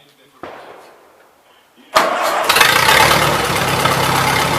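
A Massey Harris 30 tractor with the choke pulled cranks, then its engine catches and roars into a loud, steady close-up run after a quieter lead-in.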